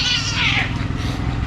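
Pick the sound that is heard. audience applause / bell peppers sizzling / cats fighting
cats fighting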